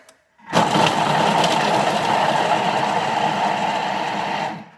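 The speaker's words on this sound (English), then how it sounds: "And then I'm going to chop the carrot." A Thermomix chops carrots at speed 5 for about three seconds: a loud, steady motorized whirring and rattling that starts abruptly after a brief silence and cuts off at the end.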